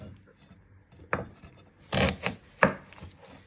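A knife cuts through an onion on a cutting board, giving a few sharp, close chops and scrapes spread across a few seconds, with a quiet stretch before them.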